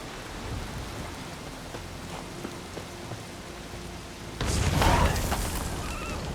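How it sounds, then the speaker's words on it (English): In the video game The Witcher 3: Wild Hunt, steady rain hisses throughout, then a deep rumble of thunder swells in near the end and lingers, louder than the rainfall. "Looks like rain."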